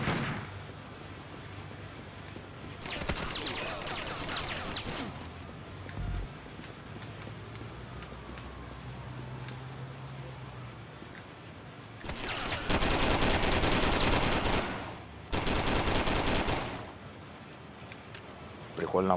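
Gunfire in the video game Driver: Parallel Lines comes in two loud bursts of rapid automatic shots, one early and a longer one near the end, with quieter game ambience between them.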